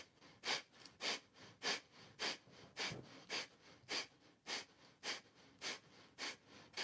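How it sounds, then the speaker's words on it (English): A person does a breathing exercise of short, sharp, forceful exhales through the nose, about thirteen evenly spaced puffs at a brisk steady rhythm, close and alone. "Short, sharp, powerful exhales through the nose."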